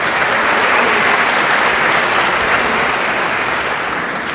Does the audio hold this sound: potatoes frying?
no